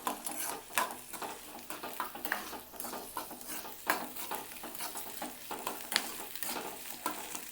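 Chopped onions and green chillies fry in a pan with a soft steady sizzle, under repeated close scrapes and stirs of a spoon, with no voices.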